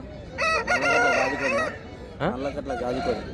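A large-breed rooster crows twice, loud and close: one long drawn-out crow, then after a short pause a second crow.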